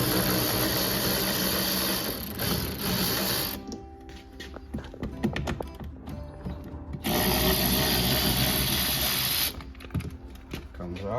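Ratcheting 10mm deep well socket loosening a bolt on a 2011 Chevy Silverado door, close mechanical clicking in bursts between louder broadband noise, with talk underneath.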